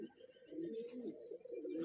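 Pigeons perched overhead at a Sasan Gir resort give soft, low cooing, a continuous murmuring call that stays quiet and steady, with faint background hiss and no talk.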